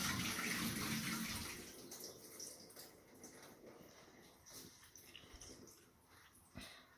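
Water tipped out of a bucket of melted and resolidified beeswax: a loud rushing pour at first that thins into trickles and drips, with one brief splash near the end.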